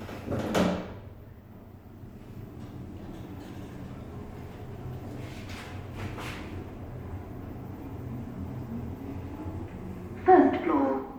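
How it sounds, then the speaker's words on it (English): Lift doors at the Trafford Centre shopping centre slide open with a brief, moderately loud rumble near the end, following an earlier short door noise, over a steady indoor hum while people talk at times. "Doors opening."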